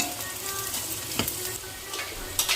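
Gongura tempering sizzles and crackles steadily in a hot pan, with a couple of louder scraping stirs of a spoon cutting through the continuous frying hiss, close and fairly quiet.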